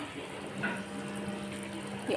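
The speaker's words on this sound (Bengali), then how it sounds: "ছোটো ছোটো টিপি টিপি বলক আছে" Mustard hilsa curry simmers gently over low heat with small, soft bubbles, a faint, steady close-up bubbling and a low hum running through the whole stretch, no one talking.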